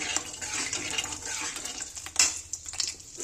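An egg sizzles and spits in hot mustard oil in a wok, a steady close frying crackle with a brief louder burst of spattering about two-thirds through.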